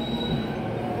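A train in Japan moves off with a soft, steady rolling rumble and a faint high whine, heard quietly and close from on board.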